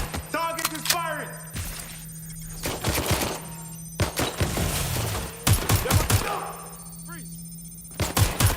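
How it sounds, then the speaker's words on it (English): Gunfire in the Watch Dogs: Legion video game, repeated bursts of rapid shots in several volleys over a steady hum, with voices talking between them. "Target is firing!"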